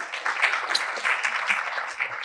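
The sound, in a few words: audience applause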